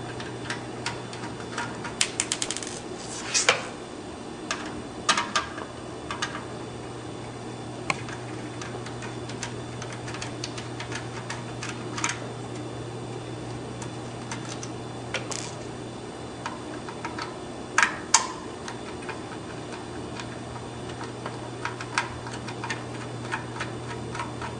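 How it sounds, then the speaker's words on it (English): Small T8 Torx driver working screws out of an Xbox 360 case, a quiet run of faint ticks and clicks scattered over a steady low electrical hum, with no talking. "I'm going to get my T8 driver and remove these 3 screws"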